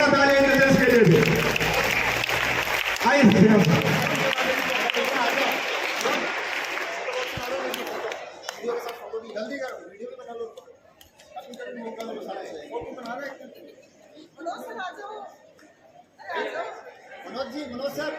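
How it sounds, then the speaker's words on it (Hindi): Applause for the judges at a stage event, loud clapping mixed with crowd chatter for the first several seconds, then giving way to talking, laughter and scattered noise. "पर जोरदार तालियां इन जजेस के लिए भी।"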